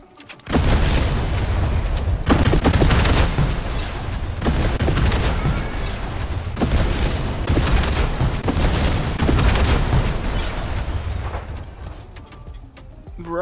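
Loud, sustained bursts of gunfire and booming explosions in the video game Fortnite, rolling almost continuously with brief dips between volleys.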